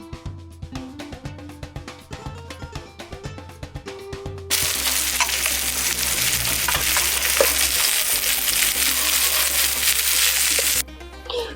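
Silver bay fish frying in a thick pan over heat, a steady loud sizzle that starts abruptly after a few seconds of clattering and continues unbroken, close by, then cuts off near the end.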